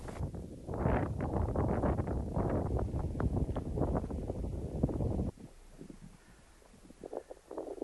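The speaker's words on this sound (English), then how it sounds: "By the time I rode back to my island, the wind had picked up." Wind gusts buffet the microphone on a shore of northern Lake Ladoga, loud rumbling blasts for about five seconds, then dropping to a quieter breeze with scattered rustles.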